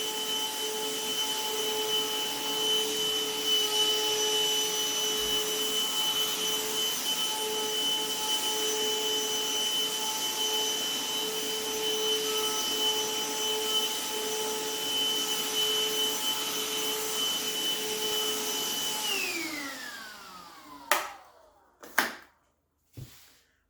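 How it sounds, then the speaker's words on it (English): A BLACK+DECKER cordless Dustbuster handheld vacuum with cyclonic action runs with a steady high whine for about nineteen seconds, then spins down in a falling pitch and stops, followed by a few sharp clicks and knocks. "this Dustbuster from BLACK+DECKER handheld vacuum"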